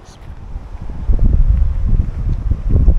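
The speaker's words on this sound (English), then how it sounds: "Ooh, it's windy though." Low, gusty wind in Oregon buffets the microphone in uneven rumbling bursts, rising and falling over a few seconds.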